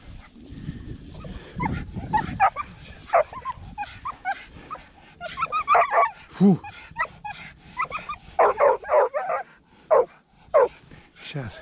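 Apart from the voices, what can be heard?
hunting dogs barking and whimpering during hare hunt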